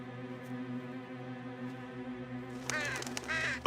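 A cartoon crow caws in a few harsh bursts in the Fireman Sam animated series, breaking in after a sustained tonal sound.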